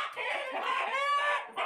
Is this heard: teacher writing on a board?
no